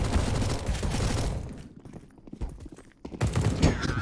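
Rapid Mag 10 shotgun and USP pistol fire overlaps in a dense, loud exchange during a Counter-Strike match on the map Ancient, with a brief lull before the shots resume.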